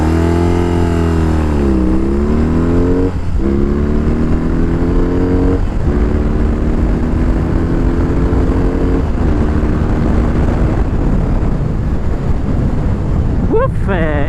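BMW R18 cruiser motorcycle with its big boxer twin pulling hard through the gears, engine pitch climbing and dropping at each shift over steady wind rush, loud and close throughout.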